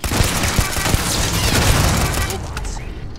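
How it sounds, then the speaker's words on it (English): Rapid turret gunfire in the space game Starfield, a dense, loud barrage of shots and booms that runs continuously and fades slightly toward the end. "Turrets. Very dangerous."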